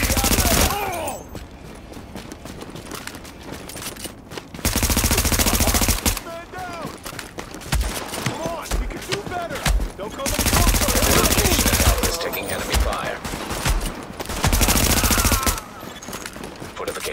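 Sustained automatic gunfire rattles at a fortification in Tom Clancy's The Division, coming in loud bursts of rapid shots between short lulls, with a voice speaking intermittently over the shooting.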